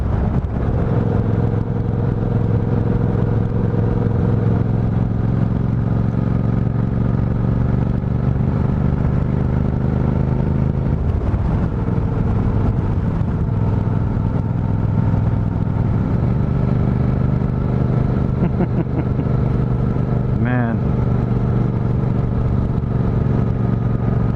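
A Honda CTX motorcycle being ridden, with a continuous low engine drone and wind rumble that holds steady through the ride, a passing whine rising briefly near the end.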